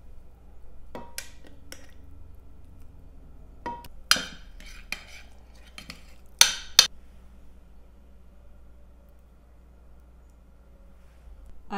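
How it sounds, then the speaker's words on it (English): Homemade mayonnaise stirred with a utensil in a bowl gives sparse clinks and taps of metal against the dish, a few sharper knocks among quiet pauses and a low background hum. "Time to mix the mayonnaise, as you can see, last night's mayonnaise."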